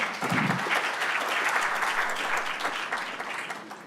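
An audience at a National Institute of Justice 50th anniversary event claps for a police chief's speech, a full, sustained round of applause from many hands that eases off slightly toward the end.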